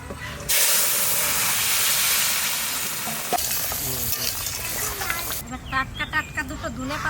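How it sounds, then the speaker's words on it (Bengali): Vegetables dropped into a little hot oil with bay leaf, dried chili and cumin, a loud sudden hiss and steady frying sizzle close up, easing off before a voice speaks over it. "অল্প তেল দিলাম তেজপাতা শুকনো লঙ্কা জিরে তরকারিটা দিয়ে দিচ্ছি"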